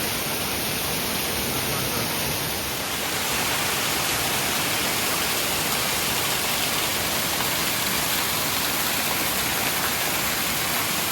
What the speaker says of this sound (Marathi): बघू शकतात जबरदस्तच पाऊस येणार.